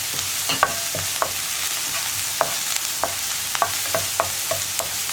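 Chopped garlic, ginger and green chillies fry in a hot pan, giving a steady sizzle broken by sharp scraping and clinking taps of stirring at an irregular rhythm, with no voices.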